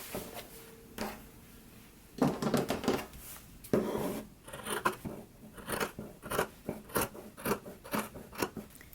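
Scissors snip and trim the seam allowance of a sewn fabric skirt, a close series of crisp, irregular cuts that quicken toward the end, with no talking.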